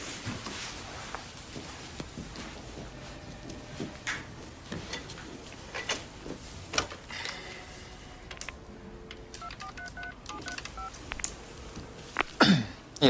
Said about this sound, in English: Dana, can I use your phone?